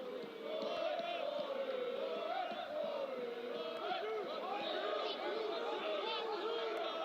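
A college baseball crowd lets out a loud, sustained chorus of barking-like cheers and yells, rising and falling in waves of voices throughout the stretch.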